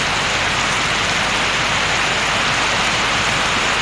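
A dense, unbroken roar of heavy rain drumming on surfaces, loud and close, with no other sounds.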